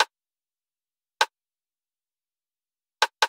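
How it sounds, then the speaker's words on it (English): Rim shot drum sample from an emo plugg beat, sharp dry clicks hit alone with gaps between them, the last two struck in quick succession. "And a rim shot."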